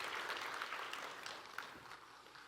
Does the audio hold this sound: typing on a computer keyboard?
no